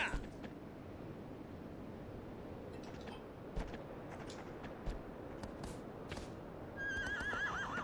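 Horse whinnying with clip-clop hoofbeats in Shadow of the Colossus, steady ambient game sound throughout and a rising whinny near the end, no talk.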